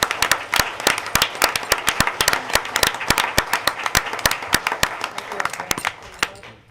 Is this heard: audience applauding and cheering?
yes